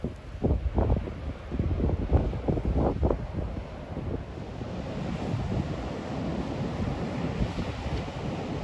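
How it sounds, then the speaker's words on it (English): Rough surf crashes on a Montauk shore as wind buffets the microphone, several strong wave surges early, then a continuous loud wash of water and gusting wind. "Rough seas."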